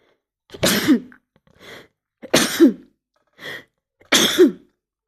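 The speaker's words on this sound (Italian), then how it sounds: "con gli starnuti non riesco mai a bloccare il video" Three sharp sneezes burst out at even intervals, each followed by a short breathy catch, close to the microphone with silence between.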